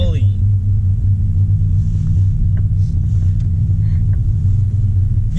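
Honda Civic Type R engine rumbling steadily up close from inside the car as an inexperienced driver pulls away slowly, a continuous low drone with faint voices in the cabin.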